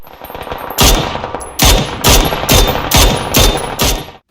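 Mini 14 rifle firing in the game PUBG: six loud, sharp gunshots spaced about half a second apart, each with a short tail, over a low background rumble.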